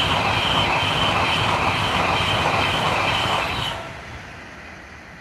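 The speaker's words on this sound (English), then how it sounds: "That was a Avanti West Coast class 390 going to." An Avanti West Coast Class 390 train passing by on the line, a loud steady rush and rumble of wheels and air for several seconds that drops off abruptly as the last carriage clears, leaving faint residual noise.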